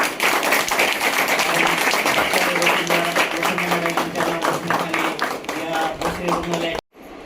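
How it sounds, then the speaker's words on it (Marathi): Loud crowd clapping at a Rotary Club breastfeeding day event in a new hospital in Bhosari, dense applause lasting several seconds with a voice speaking over it before it stops abruptly. "सगळ्यांनी एकदा जोरदार टाळ्या"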